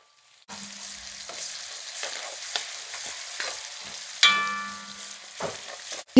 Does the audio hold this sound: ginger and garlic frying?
yes